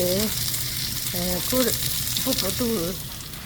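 Mustard seeds fry in hot oil for rasam with a steady bright sizzle, while a voice speaks intermittently over the cooking.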